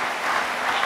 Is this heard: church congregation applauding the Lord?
yes